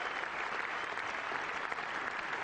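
A big cricket crowd applauds a batsman reaching fifty, a steady, dense wash of clapping that holds evenly throughout with no voices rising above it.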